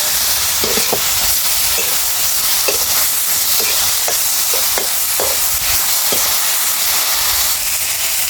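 Local mountain mushrooms fry in a pan with a steady, close sizzle and hiss, broken by occasional soft stirring clicks and scrapes throughout.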